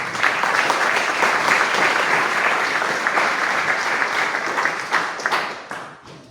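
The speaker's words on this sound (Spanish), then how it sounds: "Pido para él un aplauso." An audience applauds, a dense wash of clapping that holds steady for several seconds and then tapers off toward the end.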